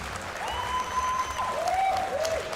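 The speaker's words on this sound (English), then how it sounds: "your 93 kilo class, big round of applause" Crowd applause for the medalists of a weightlifting competition's 93 kilo class, an even wash of clapping with a few whistles riding over it.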